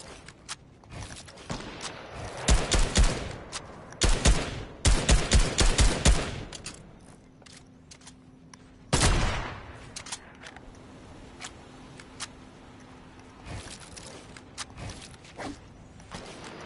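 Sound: shotgun fire nearby in a video game arena match

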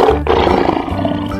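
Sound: lion roaring

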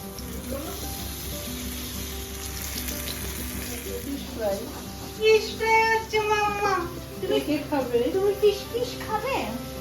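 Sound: pomfret fish frying on a tawa

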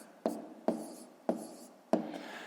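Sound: writing numbers by hand

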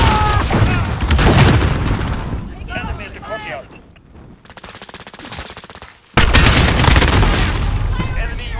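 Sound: grenade explosion in video game Call of Duty: Modern Warfare

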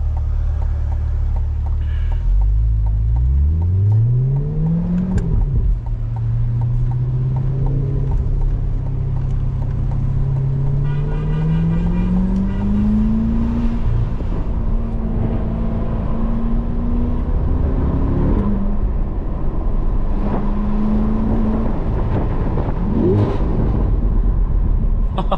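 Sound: C8 Corvette engine while driving

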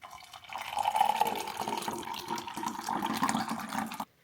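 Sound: pouring water for a pineapple and parsley detox drink

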